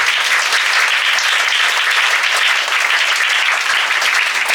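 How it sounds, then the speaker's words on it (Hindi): A church congregation claps loudly and steadily for the Lord, a dense continuous wash of applause filling the room. "जोर से ताली बजाएंगे प्रभु के लिए।"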